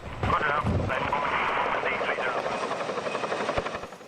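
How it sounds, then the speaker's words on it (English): A military Chinook helicopter in southern Afghanistan thunders loudly with a dense rotor roar and rhythmic thudding, and a voice talks over it. "Chinook."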